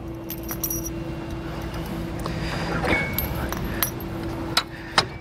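Metal locking pins on a steel cable jangle and clink repeatedly while a Roadmaster Nighthawk All Terrain tow bar is handled, close and fairly loud, with a few sharper clinks near the end.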